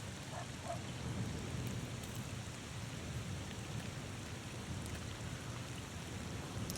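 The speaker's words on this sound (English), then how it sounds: "This rain is really pleasant." Steady rain pours in a video game, a dense continuous hiss with a low rumbling undertone of thunder, heard alone without voices.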